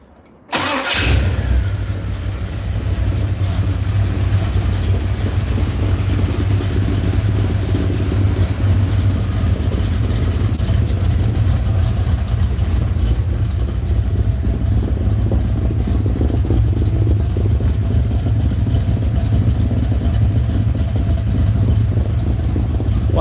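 After a brief start-up, a vehicle engine without a full exhaust settles into a loud, steady idle that runs unbroken for over twenty seconds with no talking.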